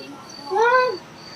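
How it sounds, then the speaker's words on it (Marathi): A cat gives a single clear meow, rising and then falling, against a quiet indoor background. "हा जे काय बोलतो मला म्याऊ"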